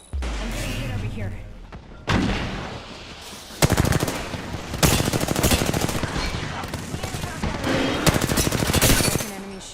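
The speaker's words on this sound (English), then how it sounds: "I'm getting hit over here." Video game gunfire in rapid machine-gun bursts, loud and close, with thumps and explosions between them, mixed with game voice callouts.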